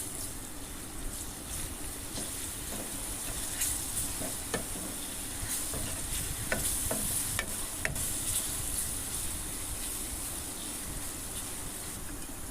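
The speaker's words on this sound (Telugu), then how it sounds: "ఇందులో అయితే కొద్దిగా అల్లం, పసుపు వేసుకొని మంచిగా కలుపుకుందాం." Ginger and turmeric frying in a pan for chicken curry with broad beans, stirred steadily: continuous dense sizzle with scattered scraping clicks of a utensil against the pan, close and even throughout with no voices.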